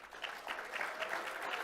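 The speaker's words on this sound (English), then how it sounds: "please join me in a warm round of applause for our newly installed council" Audience applause for newly installed council members at a Glendale city council installation ceremony, a steady wash of clapping across the room that stays even and moderately loud throughout.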